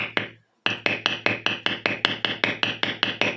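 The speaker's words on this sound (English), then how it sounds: "We're just going to strike it right on the line, right on the cut we made." Leather-working tool struck with a mallet along a cut line: a quick pair of hits, a short pause, then a steady run of about fourteen evenly spaced, sharp, close knocks with no talk.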